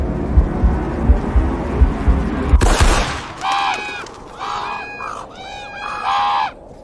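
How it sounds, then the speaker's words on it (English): In a sound-designed shootout scene, a rapid run of gunshots and booms gives way to panicked birds and crows fleeing, with several loud honking, squawking cries in quick bursts. "Then we hear birds and crows flapping away in panic."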